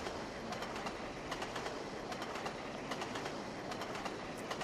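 A train running on track in Trainz: A New Era on the Settle and Carlisle route: a steady, loud rolling rumble with repeated clickety-clack rail beats running throughout.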